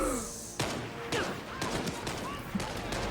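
Sporadic gunfire in the VR shooter Medal of Honor: Above and Beyond, sharp shots cracking out at irregular intervals over a busy game soundscape, with faint voice sounds mixed in.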